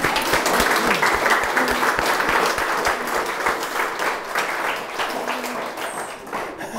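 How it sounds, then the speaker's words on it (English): Wedding guests applaud warmly once the vows finish, a full round of clapping that slowly tapers off with a few voices underneath. "Round of applause,"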